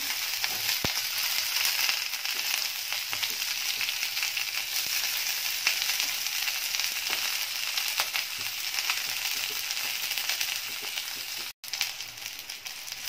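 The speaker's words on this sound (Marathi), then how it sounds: "अगदी 5 मिनिटं हे कांदे परतून घ्यायचे आहेत मीडियम फ्लेमवर।" White onions sautéing over a medium flame in a pan, a steady close crackling sizzle running evenly throughout with scattered small pops and a brief dip near the end.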